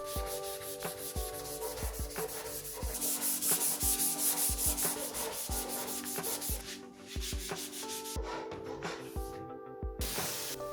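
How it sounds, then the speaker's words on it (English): Rhythmic back-and-forth sanding strokes rasp steadily against a primed wood panel, close up, with brief pauses and light spraying hiss near the end. "I'll be sanding it down to get that smooth surface that's perfect for painting."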